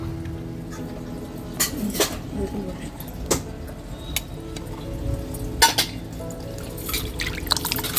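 Fish being washed by hand in water with turmeric, giving repeated splashes, drips and sloshing with occasional clinks of a vessel, close and continuous, interrupted by a few sharper splashes.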